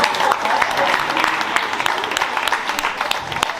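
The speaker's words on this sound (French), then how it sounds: "Vous pouvez applaudir." Dense applause from a crowd, many hands clapping steadily throughout, with a voice faintly mixed in.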